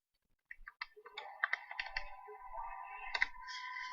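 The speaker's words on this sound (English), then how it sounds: "now I'm typing this into the calculator" Clicky presses on a calculator keypad, a quick burst of separate taps followed by a more even run of soft electronic keying, close and clear with nobody speaking.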